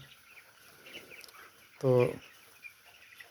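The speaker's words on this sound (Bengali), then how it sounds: "মুরগিগুলো খেলাধুলা করতেছে, মজা করতেছে" Farm chickens give a single short, loud cluck close by at about the midpoint, standing out from a quiet, low background with a few faint sounds.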